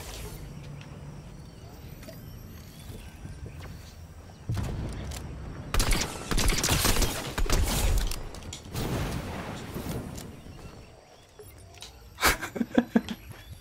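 Gunfire in Fortnite Zero Build, the no-building mode, comes as several loud broadband bursts, with heavy volleys in the middle and a sharper cluster of shots near the end, over quieter in-game ambience.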